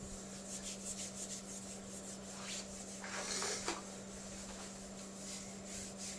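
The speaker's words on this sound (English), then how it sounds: "If you heat it by rubbing it, it actually soaks up better." Oil being rubbed by hand into a wooden gunstock, a close, continuous dry friction of strokes back and forth, louder around the middle, over a steady low electrical hum.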